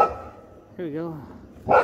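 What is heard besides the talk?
dog barking on a hiking trail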